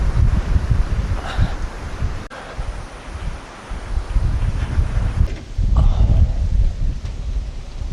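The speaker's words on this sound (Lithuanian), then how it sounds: "Čia tai vėjuota" Wind gusting hard across the highlands around Iten, Kenya, buffeting the microphone with a low, rumbling roar that swells and eases over several seconds, accompanied by a faint rustle.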